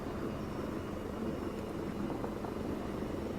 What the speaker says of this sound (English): Blackfoot, that's the name of the attack helicopter.